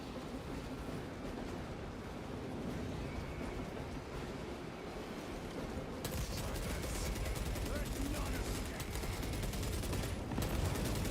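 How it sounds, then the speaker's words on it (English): Heavy bolter gunfire in the video game Warhammer 40,000: Space Marine 2, a steady, dense roar of automatic fire that grows harsher after about six seconds, quiet overall and mixed with battle noise. "Heavy bolter."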